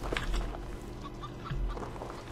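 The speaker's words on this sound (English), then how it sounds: "It's a freaking chicken." A chicken in the horror video game Lex Mortis clucks in short, scattered bursts, fairly faint beneath a low rumbling game ambience.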